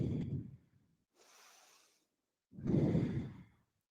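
A slow, audible exhale during a seated yoga forward fold toward the toes in a vinyasa power yoga session. It comes as a few close breath sounds, with a longer, louder sigh near the end and no talking.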